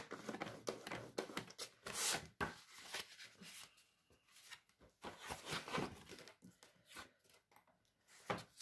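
A paper card being folded by hand, close and quiet, with scattered crisp creases, rustles and taps spread across a few seconds, no voices.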